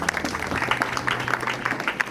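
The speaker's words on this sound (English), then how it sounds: "Let's clap for those who made him be what he is." An audience applauds a speaker at a Ugandan ministerial speech event, with a brief burst of scattered, mid-distance clapping from a crowd.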